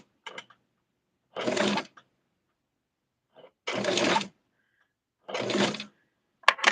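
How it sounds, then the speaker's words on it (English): A sewing machine stitches a doll bathing suit right at the fabric edge in several short bursts of whirring separated by quiet pauses, close and clear. "And I am sewing it, like I mentioned, right at the edge."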